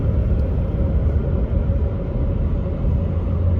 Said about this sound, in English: Watch when it shifts gear.